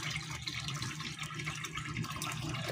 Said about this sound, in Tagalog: Ayos naman yung bagsak ng tubig.